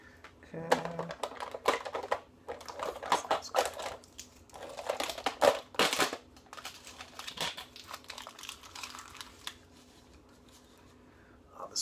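Rummaging inside a plastic supplement bottle of C4 and Alpha Aminos powder for the buried scoop: close, irregular crinkling and scraping rustles in bursts, with scattered louder clicks and knocks.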